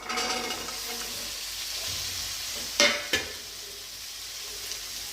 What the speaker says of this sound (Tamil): உருளைக்கிழங்கும் பட்டாணியும் போட்டதுக்கப்புறமா நல்லா வதக்கி விட்டுருங்க.